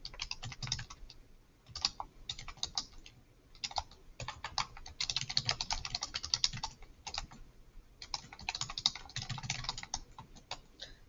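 Fast, irregular clicking of keys on a computer keyboard, close and fairly quiet, in bursts with short pauses, no voices.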